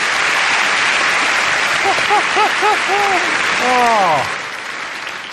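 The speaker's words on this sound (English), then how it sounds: "John, everyone, give him a round of applause" A comedy audience claps loudly and continuously for a performer named John, and a voice speaks briefly over the applause.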